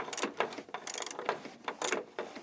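A ratchet fitted with an 8mm socket snugs the fog light bolts on a BMW E34, giving rapid, close, crisp clicking in uneven bursts throughout.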